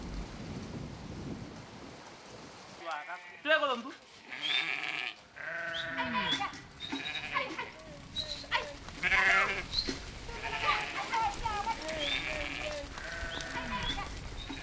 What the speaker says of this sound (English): The cows drink first before the goats